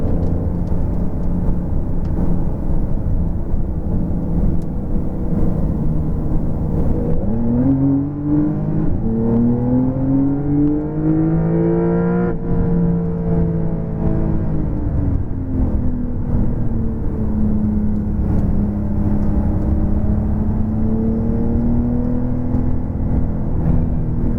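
Porsche GTS race cars circling a track in a tight line, their engines droning loud and continuous with rising and falling pitch as they rev and sweep through a long arc.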